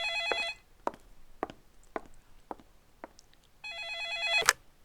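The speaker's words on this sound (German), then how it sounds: "Telefon." A warbling electronic telephone rings twice in the Law & Order Legacies video game. Sharp clicks and taps fall evenly between the two loud ring bursts.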